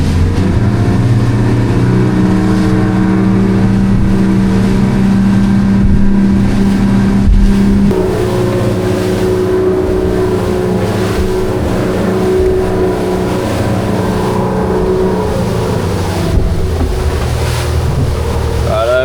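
A boat powers up to speed off Coral Bay. Loud engine drone is mixed with rushing water and wind buffeting, and a shift in engine pitch comes partway through as it accelerates.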